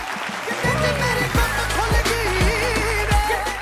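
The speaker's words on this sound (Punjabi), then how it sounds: "ਇੱਕ ਵਾਰੀ ਉਹਨਾਂ ਲਈ ਜ਼ੋਰਦਾਰ ਤਾੜੀ ਹੋਣੀ ਚਾਹੀਦੀ" An audience claps for a Punjabi duet singing pair at a live stage show, a loud, sustained wash of applause mixed with tonal vocal sounds that carry over it.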